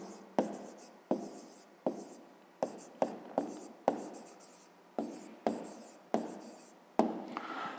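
Chalk or a marker taps and scratches across a school board in short, sharp strokes, about a dozen of them in an uneven rhythm, close and fairly quiet.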